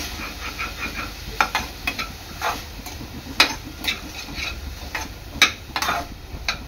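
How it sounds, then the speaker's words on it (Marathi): Vegetables sautéing in butter in a pan sizzle steadily with a close, soft frying hiss, broken by repeated light spoon scrapes and clicks against the pan. "भाजी चांगली 3 ते 4 मिनिटं परतून घ्यायची आहे"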